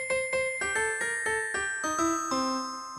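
An Elite EX keyboard plays a layered piano and bell voice: a clear run of about a dozen ringing notes, each struck with a bright chiming attack, moving steadily through a short melody with no talking.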